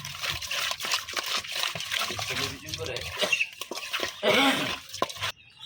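Fish being rinsed by hand with water after a salt scrub, giving near splashing, trickling and sloshing in irregular surges, strongest near four and a half seconds, with a voice talking over it.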